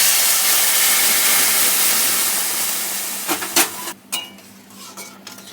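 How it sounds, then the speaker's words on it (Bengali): Hot water poured into a pan of cooking taro (kochur mukhi) curry gives a steady loud hiss and sizzle that slowly fades, ending in a few scattered clinks and splutters. "গরম জল করা ছিল, গরম জলটা দিয়ে দিলাম।"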